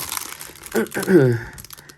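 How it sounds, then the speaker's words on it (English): A plastic bag crinkles and rustles in short bursts while jewelry is taken out of its packaging, with a voice talking over and around the crinkling. "I'm so sorry about the plastic rustling."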